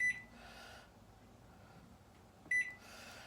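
Two short electronic beeps from a kitchen oven timer being set, one at the start and another about two and a half seconds later, with quiet room noise between them.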